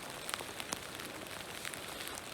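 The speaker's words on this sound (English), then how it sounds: "pissing down with rain" Heavy rain pours steadily high in the mountains near the snow line, a dense close hiss with scattered sharper drop taps throughout.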